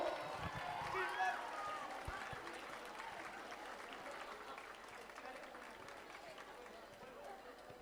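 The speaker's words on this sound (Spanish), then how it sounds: "Un aplauso." Faint, distant applause from a crowd at a carnival gathering rolls on steadily for several seconds, mixed with voices and general crowd noise.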